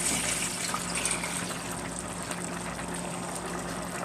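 A steady stream of water pours and splashes into a cooking pot, running continuously with a slight knock at the end.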